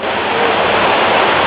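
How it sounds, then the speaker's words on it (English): Water rushes loudly and steadily from large waterfalls beside a river boat ride at the Opryland resort, a close, unbroken roar. "we're coming into the waterfall section of our river. So we have 3 large waterfalls."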